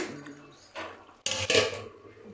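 A lid set back on a pot of homemade sardine fish curry, a short metallic clatter followed by a louder clank and ringing as it settles, heard close up.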